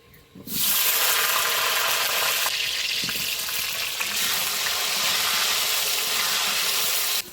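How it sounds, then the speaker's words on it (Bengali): Cut, washed potatoes dropped into hot oil in a wok, a loud steady sizzle and hiss that starts abruptly and keeps going with occasional crackles, close up and with no talking. "কড়াইতে তেল গরম হয়ে গেছে, এবার কেটে ধুয়ে রাখা আলুটা দিয়ে দেবো।"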